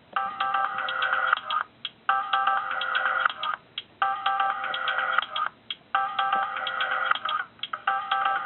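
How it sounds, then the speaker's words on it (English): A short looped track played back on a Korg Volca Sample, repeating bright, buzzy, ringtone-like electronic phrases in four even bursts separated by brief gaps, moderately loud and alone. "And this is a little track that I recorded first."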